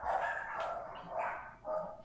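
Dog barking in the background of a podcast recording: a few short, separate barks at a moderate distance, spread through about two seconds with no talk over them.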